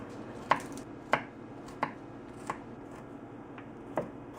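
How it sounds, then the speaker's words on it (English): Five or six sharp thuds of a big spoon smashing garlic cloves to loosen the skins, spaced about every half second to second, close and fairly quiet over a low room hum. "I'm just going to grab a big spoon and smash the garlic just to help loosen the skin"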